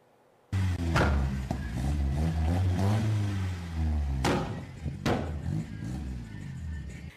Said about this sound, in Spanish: Este sonido que se genera en los escapes de los autos y motos que conforman las agrupaciones tuning de la ciudad